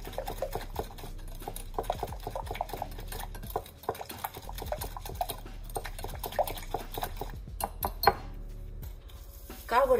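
Sugar and flour being stirred together in a mixing bowl for an Easter cake dough, with steady clinks and scrapes of a spoon against the bowl, fairly close and continuous, with no talking.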